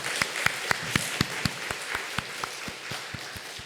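A church congregation claps in thanks for the choir during a Sunday service, a sparse, rhythmic run of distinct claps, fairly close and moderately loud, continuing without talk.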